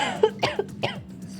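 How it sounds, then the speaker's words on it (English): A person coughs in a short run of three or four harsh, close bursts, then falls quiet. "Sorry for the coughs."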